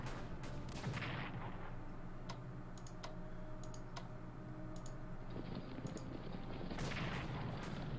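Artillery fire in Strategic Command: World War I, with sharp, crackling shots scattered irregularly over a steady, dense background rumble that carries on throughout.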